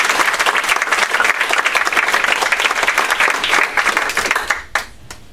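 A reception audience gives the finalists a dense, sustained round of applause at close range, which thins out into a few last claps and fades near the end.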